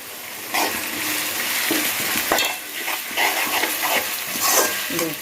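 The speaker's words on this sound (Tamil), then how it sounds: "இதை போட்டு நல்லா வதக்கிடுங்க." A paste of ground coriander, mint, green chili, ginger and cumin is sautéed with vegetables for rava kichadi, a steady close frying hiss broken by repeated scraping stirs of a spoon against the pan.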